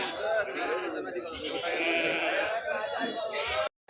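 Several sheep bleat continuously and loudly amid a busy crowd at the weekly sheep and goat market in Mudigubba, with people chattering in the background throughout.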